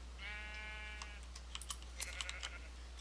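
A sheep in the video game Minecraft lets out one short bleat, followed by a scatter of faint clicks of computer keyboard typing.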